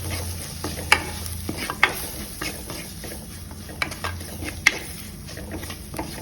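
Chilli powder, Kashmiri chilli and turmeric masala sautéing for fish curry, a soft sizzle under repeated scraping and clinking of a spoon against the pan, with several sharp metallic taps; close and fairly quiet.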